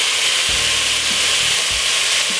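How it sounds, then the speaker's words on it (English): Winter potato soup ingredients with pepper and mixed herbs are stirred in a pot over a loud, constant sizzle, with a few low scraping knocks from the spoon against the pot. "Give it a stir."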